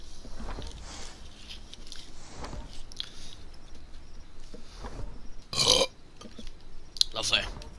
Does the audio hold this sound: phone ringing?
no